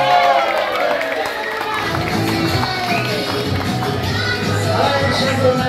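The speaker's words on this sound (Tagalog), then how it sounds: "parinig naman po ng isang malakas na palakpakan na may hiyawan" Guests at a child's first-birthday party at a Jollibee kids party break into loud clapping and cheering, a dense, sustained crowd roar with shouts layered over steady applause and some voices mixed in.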